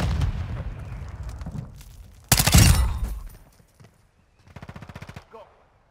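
Gunfire in Call of Duty Modern Warfare II hardcore team deathmatch crackles in bursts, with a loud close blast in the middle and a rapid automatic rattle near the end, while a player's voice is heard.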